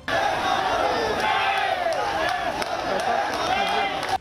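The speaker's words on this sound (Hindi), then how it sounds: "लोग तालियां बजाते और नारे लगाते हुए पार्थिव शरीर के साथ चलते रहे।" A large crowd at a funeral procession for a slain army colonel, chanting slogans in loud unison with rhythmic clapping and overlapping voices, sustained and close throughout.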